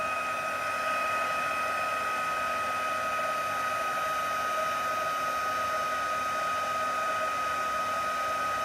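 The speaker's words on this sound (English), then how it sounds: "embossing, sorry, heat tool on again" An embossing heat tool blowing hot air at a craft table, a steady, close, continuous whooshing hum with a faint whine that holds level throughout, alone with no speech.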